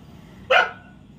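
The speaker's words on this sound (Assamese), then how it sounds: "এটা কুকুৰটো চিঞৰি আছে" A dog lets out one short, sharp bark at close range, heard alone against quiet background hum.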